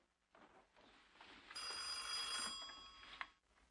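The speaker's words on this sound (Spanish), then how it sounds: "Lucelen, coge el teléfono" An old-fashioned telephone bell rings in a quiet home, one bright sustained trill that stops after about two seconds, faint and alone.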